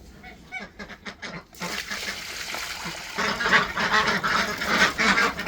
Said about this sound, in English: Don't bother the ducks, Pup.